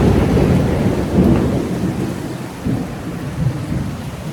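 Heavy monsoon rain pours down outdoors in a steady, dense roar, with deep rolls of thunder rumbling through it and no one speaking.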